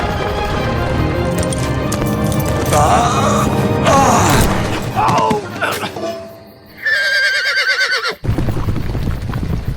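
Horses whinny and neigh in an audio drama about Harriet Tubman's escape from slavery, with rising and falling calls over busy background sound and a possible clip-clop of hooves, before the scene drops nearly silent near the end.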